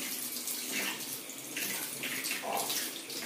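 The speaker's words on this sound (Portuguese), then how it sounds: "E eu vou abrir essa torneira e vou estar lavando." Water runs steadily from an opened tap into a sink while makeup brushes are washed, a continuous splashing hiss with a few brief shifts in the stream, close and fairly loud.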